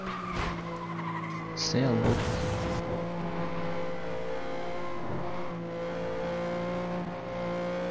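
In the FlatOut 2 racing video game, a car engine drones steadily with a brief burst of skidding and impact noise near the start, while someone talks over the gameplay.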